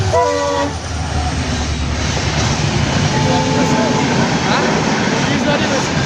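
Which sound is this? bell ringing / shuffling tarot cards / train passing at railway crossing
train passing at railway crossing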